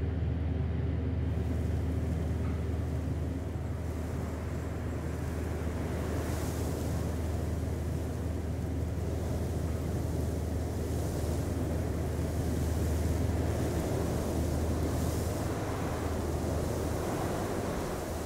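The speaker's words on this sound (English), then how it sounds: "I can just perform the intensity and the dynamics of the wind there." Synthetic wind sound effect performed live with a Krotos Studio AI weather preset, a steady broadband rushing roar that swells and eases gently in intensity, continuous and fairly loud, with no voices over it.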